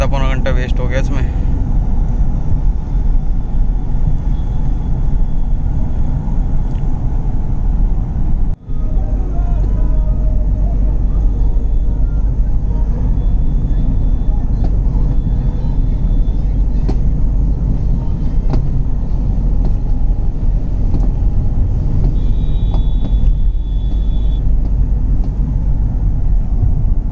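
Heavy road traffic rolls along the Delhi Punjab highway during a farmers' protest rally, a continuous loud rumble of engines and tyres with passing vehicles and a few horn tones, and people talking over it.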